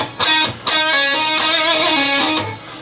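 Electric guitar riff, played as a lesson example: a few sustained, ringing notes joined by hammer-ons and pull-offs, with a vibrato tail and a brief pause between phrases, close and clear with no talking.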